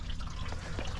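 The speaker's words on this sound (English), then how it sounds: "draining out coolant" Old coolant draining out of an engine block, a brief faint trickle and drip of liquid, quiet and close, with no voices.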